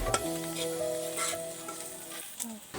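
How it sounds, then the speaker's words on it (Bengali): Eggs and spices fry in a pan and are stirred, a close, steady sizzle with a few scraping spoon strokes and a faint tonal hum underneath. "মশলার সাথে ডিমগুলো ভাজা ভাজা হয়ে গিয়েছে"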